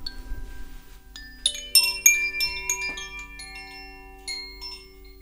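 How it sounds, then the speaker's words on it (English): Koshi chimes ring out in a quiet sound-healing setting, with a cluster of bright, shimmering tones struck in quick succession and leaving long, sustained overlapping resonance, close and alone without talk. "Then two different chimes."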